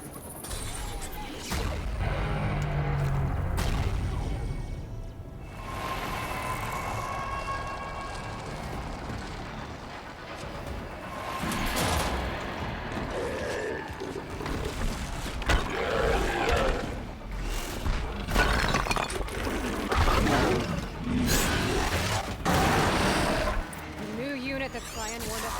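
A Fireclaw machine creature in Horizon Zero Dawn, with heavy roars, crashes and crackling fire-like bursts over sustained game rumble, and a voice speaking during the fight.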